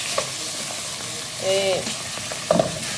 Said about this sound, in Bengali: মুরগিটা একটু কষিয়ে নেবো।